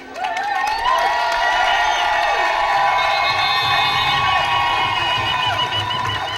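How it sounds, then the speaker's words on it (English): A large outdoor festival crowd at a Gombey dance event claps and cheers loudly and steadily, with whoops and children's shouts rising above sustained applause. "A wonderful warm applause again for our participants today"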